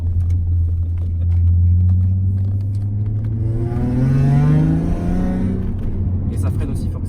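A car with a 3.2 V6 accelerates hard, its deep engine note rising steadily and loud from inside the cabin, then easing off, with voices in the car.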